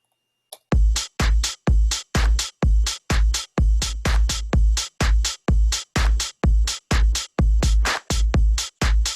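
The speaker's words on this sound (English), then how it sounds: "I've just got a 909 ride," A loud, steady drum machine beat repeats at an even pace, with bright metallic 909 ride cymbal hits sounding together with a deep kick thump on each pulse.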